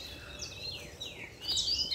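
Wild birds sing outdoors in Brazil, with thin chirps and rising and falling whistles at moderate distance over a faint ambient background, and a brighter burst of song near the end.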